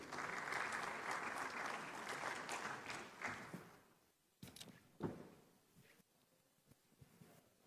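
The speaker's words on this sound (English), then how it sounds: "Please give her a warm round of applause." An audience at a banking conference's annual meeting applauds a moderator, the clapping fairly quiet and distant, fading after about four seconds into scattered rustles and a few knocks.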